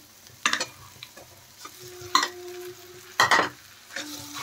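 A spoon stirs boiled potato into fried spices in a pan for aloo litti, giving a few distinct scraping strokes with soft sizzling between them, near and clear in an otherwise quiet kitchen.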